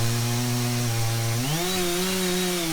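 A chainsaw cuts through the butt of a big oak trunk, its engine droning loud and close, then the pitch rises as it bites into the wood, with no voices.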